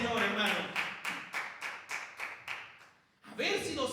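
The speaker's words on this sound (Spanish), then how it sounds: "Den ese aplauso al Señor, hermano." A church congregation claps in a slow, even rhythm, about eight distinct beats roughly half a second apart, with a voice speaking over the clapping at the start and again after a brief pause.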